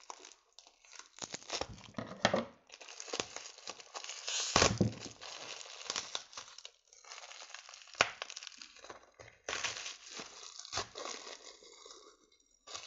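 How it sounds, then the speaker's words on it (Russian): A large plastic package bag is torn open during an unboxing, giving loud, close crinkling, crunching and ripping bursts in uneven clusters with brief pauses, and no talking. "Теперь давайте откроем вот этот вот пакетик."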